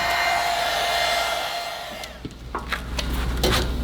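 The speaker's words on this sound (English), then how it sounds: "So I hit it with the heat gun, then I weighed it down with a weight while it cooled." A heat gun blows a steady close roar while warming a curled rubber floor mat during a Chevy truck restoration, then cuts off, leaving scattered light handling taps and clatter.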